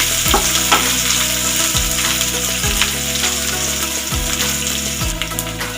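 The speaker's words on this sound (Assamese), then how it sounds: "ৰঙচুৱা হোৱালৈকে মই মিডিয়াম ফ্লেমত ভাজি থাকিম" Onions fry in oil over a medium flame with a dense, steady hiss and spatter, heard close and unbroken throughout.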